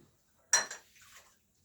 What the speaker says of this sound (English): just so you see what I do to wash dishes